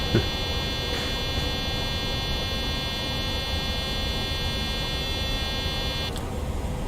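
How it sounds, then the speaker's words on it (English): A cockpit warning buzzer in a PMDG 737-700 in Microsoft Flight Simulator drones on as a steady, unbroken electronic tone, loud and continuous for several seconds before cutting off near the end. "is that buzzer ever going to stop?"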